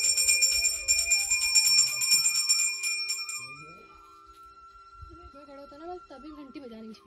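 A temple bell rung during a hillside puja in the mountains, struck repeatedly and ringing brightly for about three seconds before fading, after which voices and ambient sounds continue.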